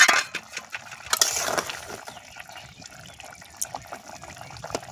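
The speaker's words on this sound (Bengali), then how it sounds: "জল কষানো হয়ে গেছে, এবারে জল দিয়ে দিলাম।" Water poured into a cooking pot holding kohlrabi, potatoes and fish, a brief splashing gush at first that settles into quieter bubbling and trickling, close by.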